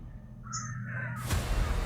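A crow caws loudly and close by, a harsh call followed by a sharp burst of noise, with no voices.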